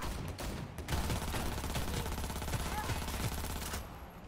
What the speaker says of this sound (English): Why are you shooting at me, lady?